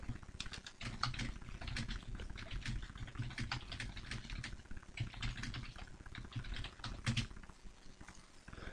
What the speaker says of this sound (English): Now if I start typing here